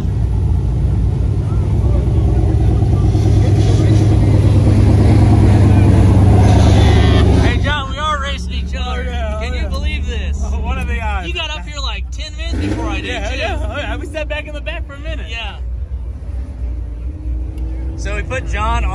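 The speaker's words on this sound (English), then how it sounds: "we're gonna have the Turbo LS Blazer racing the ZL1500 first round" A Turbo LS Blazer and a ZL1500 with a 10-speed transmission racing at a drag strip: a loud, sustained engine roar for several seconds that then drops to a lower, rougher running sound with faint voices.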